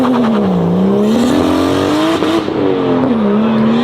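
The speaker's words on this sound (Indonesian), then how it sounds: "Toyota Supra itu terkenal karena suara ini." A loud Toyota Supra engine revs and holds at a high pitch, its tone rising and dipping in waves, with a raspy, throaty edge throughout.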